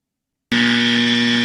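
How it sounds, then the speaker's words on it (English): A game show buzzer is hit during a state-ranking quiz, giving one loud, harsh electronic buzz that starts abruptly after silence and holds for about a second before cutting off. "Phil's just been waiting to hit that buzzer like that."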